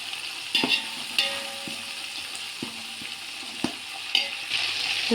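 Curry leaves and mint fry in oil in a pan, with a continuous sizzle broken by several sharp clinks and scrapes of a spoon stirring, close by and without speech.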